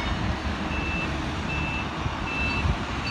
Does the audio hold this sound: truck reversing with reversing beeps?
yes